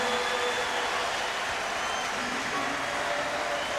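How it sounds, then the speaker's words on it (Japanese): A stadium crowd at a World Series baseball game between the Yankees and Marlins at Pro Player Stadium applauds. The sound is a continuous, broad roar of clapping heard from a distance, with a rainy atmosphere. "そして大きな拍手。"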